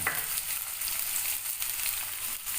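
Chopped beans and carrots sizzling in a hot pan for egg fried rice, a steady crackling fry with light stirring scrapes, fairly quiet and close.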